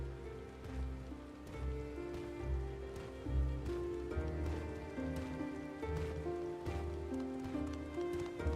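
Rain pattering steadily in the online game Final Fantasy XIV, a continuous soft hiss of drops layered over sustained, droning background music with no voices.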